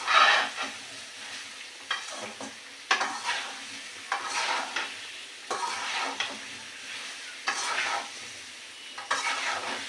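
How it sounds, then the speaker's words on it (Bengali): Mango pieces fry in hot oil while being stirred, a sizzling hiss surging in repeated waves every second or two as a spatula scrapes and turns them, close and unvoiced. "এই যে তেলের মধ্যে কষে নেব এই যে আমগুলো সিদ্ধ মানে সিদ্ধ হবে কিন্তু গলে যাবে না"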